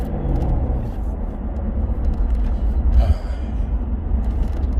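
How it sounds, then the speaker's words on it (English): Supercharged BMW E92 M3 driving on cold tires, a steady low engine drone and road rumble heard from inside the car, with a brief swell around the middle and no talking. "This car is by far the best sounding car I've ever had as well."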